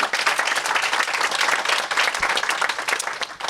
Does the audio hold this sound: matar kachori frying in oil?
no